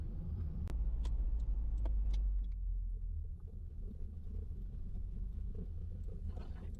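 A turbocharged Toyota 3RZ engine runs at a steady, low rumbling idle without stalling, heavier at first and then settling to a softer, even hum.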